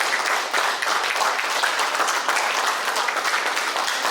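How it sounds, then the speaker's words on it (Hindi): Applause from an audience at a stage show during an honouring of guests, dense steady clapping that fills the whole stretch at even loudness with no voices on top. "जोरदार तालियां।"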